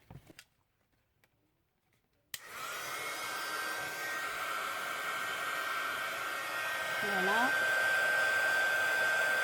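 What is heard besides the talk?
heat gun melting embossing powder on paper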